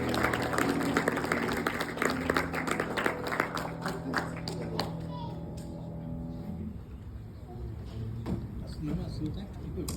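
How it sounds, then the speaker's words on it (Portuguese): A church congregation applauds to welcome a pastor, the clapping moderately loud at first then thinning out, with a low hum and music underneath and voices talking over it. "vamos recebê-lo com uma salva de palmas"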